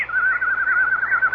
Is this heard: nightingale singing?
yes